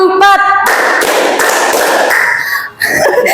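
A class of students clapping a counted rhythm pattern together, bursts of claps in groups, dense and close, with a teacher's voice at the start.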